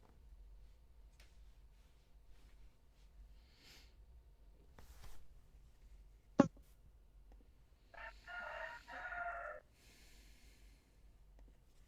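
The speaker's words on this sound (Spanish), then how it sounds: "hay un gallo que quiere hacer una pregunta, me parece" A rooster crows faintly from a distance, one drawn-out call partway through over a quiet room background with a sharp click before it.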